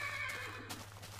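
A horse in the video game Minecraft gives a short, close whinny, a quick rising-and-falling neigh lasting about a second with faint clip-clop hints.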